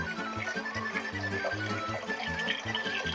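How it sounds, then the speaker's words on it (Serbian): Water running from a tap into a cooking pot for boiling beans, a continuous filling rush with faint clinks of the pot over a low background rumble. "ovdje uzimamo lonac u kome ćemo kuvati naš pasulj i nalivamo ga vodom"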